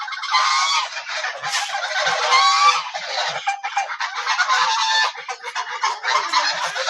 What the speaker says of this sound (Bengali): সকাল সকাল ঘুম থেকে উঠেই নানির হাঁসগুলো ছেড়ে দিয়েছে